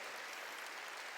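A church congregation breaks into dense, steady applause, a brief burst of many hands clapping together at a quiet, distant level.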